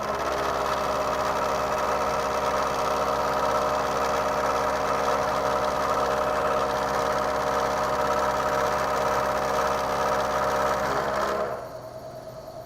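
A milling machine takes a face-milling cut to bring a part to one inch thick, a steady loud mechanical whine and hum that runs on, then drops away abruptly near the end.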